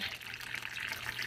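Leftover meat broth is poured along the edge of a pot packed with tamales, giving a soft, steady trickling stream of liquid.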